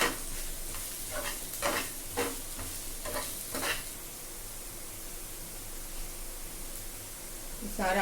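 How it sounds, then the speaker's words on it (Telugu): Onions and turmeric sizzling in a pan for a boondi curry, with a steady frying hiss and several scraping stirs early on, heard close and without talk. "ఉల్లిపాయ కూడా వేగిపోయింది. పసుపు కొంచెం వేగిన తర్వాత పసుపు వేసాను."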